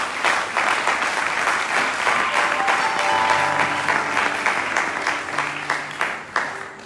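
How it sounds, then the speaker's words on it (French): A church congregation bursts into sustained applause and cheering, a dense, loud wash of many clapping hands that holds steady and then eases slightly toward the end. "Est-ce qu'on peut acclamer le Seigneur?"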